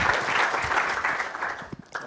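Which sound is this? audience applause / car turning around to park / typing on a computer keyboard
audience applause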